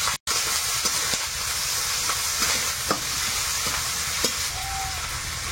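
Chopped onion, green chili and ginger-garlic paste frying in oil for a fish curry, a continuous close sizzle with occasional stirring clicks and scrapes, no talking.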